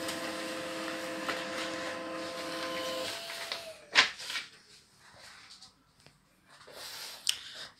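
An HP Laser 135-series printer runs off a configuration report: a steady mechanical whirr with humming motor tones for about three seconds, then a sharp clunk as the page finishes, followed by quieter rustling and clicks.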